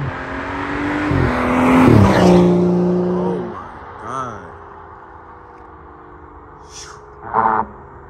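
A straight-piped BMW M4 drives past, its exhaust blaring in a loud, raspy rise that peaks early and then fades away, leaving a brief burst of noise near the end.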